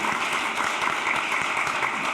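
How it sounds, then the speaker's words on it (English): An audience applauds the ASA at an accounting forum on environmental, social and governance topics: steady, dense clapping from many hands, moderately loud and sustained throughout with no voices standing out. "Can we have a round of applause for the ASA again?"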